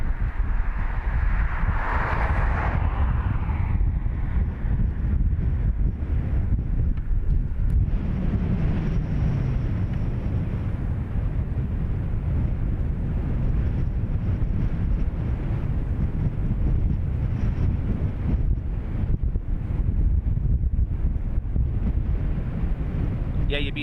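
Steady wind buffeting an outdoor microphone at an airport, a constant low rumbling roar filling the whole stretch, with a brief brighter gust near the start and faint voices underneath.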